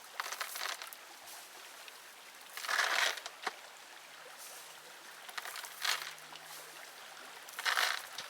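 Gravel, fine then coarse, poured and crunching into a homemade survival water filter: three louder rattling bursts of grit settling, with softer scraping and shuffling between them, close and fairly quiet.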